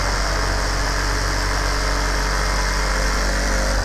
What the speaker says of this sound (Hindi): तो अभी हम बैंड पे एक सिलाई लगाएंगे।